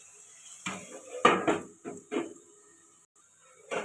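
A lid is handled on a cooking pot while vegetables are cooked with ginger and garlic paste, giving several sharp metallic clanks and rattles in quick succession, close and fairly loud, with no talking.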